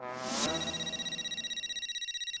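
A telephone in a domestic sitcom scene rings with a bright electronic tone after a brief louder burst, pulsing in a fast, even rhythm until it cuts off near the end.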